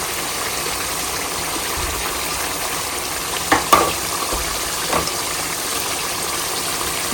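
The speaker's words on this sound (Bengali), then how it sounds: "তেল উঠে গেছে, এখন আমি কিছু আদা, তারপর হচ্ছে মরিচ বেশি দিচ্ছি" Ginger and green chillies fry in hot oil in a home kitchen, giving a steady close sizzle with a few brief clatters of stirring partway through.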